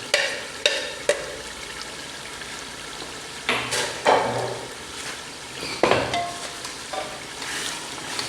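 A potato and eggplant masala with green chillies fries in a pan, a low continuous sizzle broken by several sharp scrapes and clanks of a spoon against the pot, with no talking.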